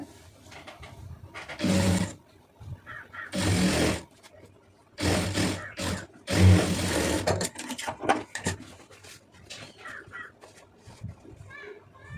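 A sewing machine stitches the seam of a lined blouse in four loud bursts of rapid whirring separated by pauses, with crows cawing faintly in the background between runs.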